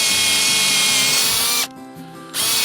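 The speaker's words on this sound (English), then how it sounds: "I'm using a 7/16 inch bit. We always drill a little bit on an uphill angle." A drill with a 7/16 inch bit boring a tap hole into a maple tree, whining loud and close, cutting out for a split second, then spinning back up.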